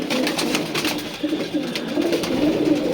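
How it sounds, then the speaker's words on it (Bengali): Pigeons in a loft, a Giribaj among them, keep up a soft overlapping cooing close at hand, a steady low murmur of many birds. "এটা হচ্ছে একটা গিরিবাজও আছে"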